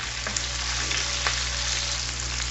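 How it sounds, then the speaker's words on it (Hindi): Capsicum with potato and cauliflower frying in a pan, a steady soft sizzle running throughout with a low hum beneath and a few faint clinks. "और उसको फ्राई कर लूँगी।"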